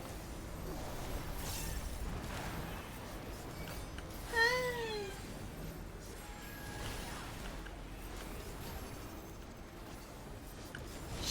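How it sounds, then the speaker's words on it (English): A pet cat gives a clear, drawn-out meow with a rising then falling pitch, nearby and fairly loud over a low background hum, then falls quiet. "Chatty kitty. She's so noisy, but like in a cute way."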